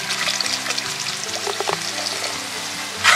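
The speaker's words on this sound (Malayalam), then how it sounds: "വിനാഗിരി നന്നായിട്ട് തിളച്ച് എണ്ണ തെളിയണം" Vinegar boiling with oil in a pan of ginger-mango pickle gives a steady, close bubbling hiss. Soft background music plays underneath, and a louder gush comes at the end.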